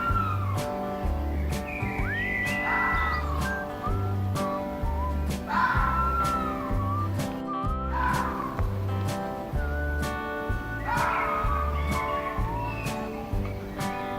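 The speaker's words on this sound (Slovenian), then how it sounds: "Lisica." A fox gives repeated high, rising yelping screams over a steady, loud backing music track, in several bursts spaced a few seconds apart.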